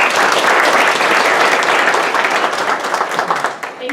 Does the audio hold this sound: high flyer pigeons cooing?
no